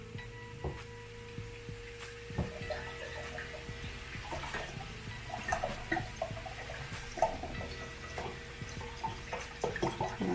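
Water is poured into a soup pot for a creamy cauliflower and parsnip vegan soup, a steady close trickle with scattered drips and light clinks throughout, no talking.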